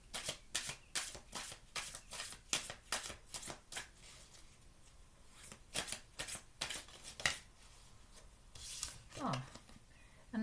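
Tarot cards being shuffled and handled, giving a run of crisp, rapid riffling bursts close to the ear, pausing near the middle and picking up again toward the end, with no one speaking.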